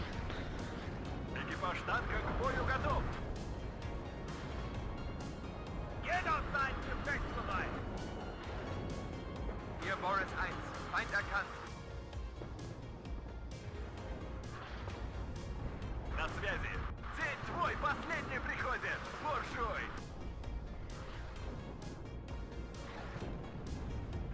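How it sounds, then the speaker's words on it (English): Artillery fires in the real-time strategy game WARNO, shells from a mountain position landing as repeated heavy bursts over a constant rumbling battlefield bed, with someone talking throughout. "Artillery firing through the mountain."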